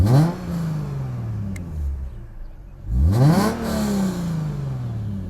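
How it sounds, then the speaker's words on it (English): A Lexus car engine revs up twice with a raspy, buzzy exhaust note that gets raspier in the upper rev range, rising sharply and falling back, heard close and loud with no talking. "the exhaust is a little raspy for my personal liking"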